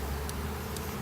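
Honey bees in a small queen-rearing colony at a community college bee lab give off a steady, close, low drone that holds level throughout, with no voices.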